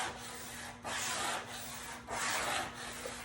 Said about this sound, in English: I actually also give it a good back rub all the way up and down.